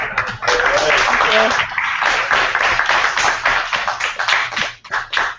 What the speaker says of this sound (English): Okay, everybody, round of applause.